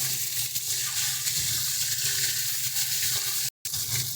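Rita fish pieces frying in hot oil for a tomato curry, giving a steady close crackle and hiss throughout, broken by one very brief silent gap near the end; no talking.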